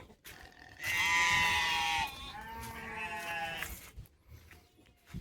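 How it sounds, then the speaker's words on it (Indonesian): Sheep bleat loudly and close on a small backyard farm with chicken pens, a sustained wavering call followed by a second, quieter bleat, then low farmyard noise. "Sama domba-domba saya."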